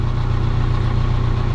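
A Kia Carnival diesel engine idles steadily and loudly up close, a low, even rumble with constant vibration and no voices over it.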